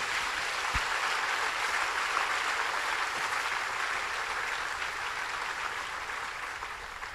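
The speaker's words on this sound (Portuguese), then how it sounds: "Aplauda Ele bem forte" Steady applause from a church congregation fills the whole stretch, dense and even, fading slightly toward the end with no talk over it.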